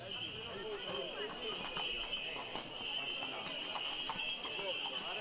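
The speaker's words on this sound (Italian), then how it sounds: "una bellissima immagine davvero di 4 cavalieri e i loro cavalli" Horses carrying riders in a Sardinian parade clip-clop in a steady, overlapping rhythm of hooves, moderately close, under an Italian narrator's voice and background crowd noise.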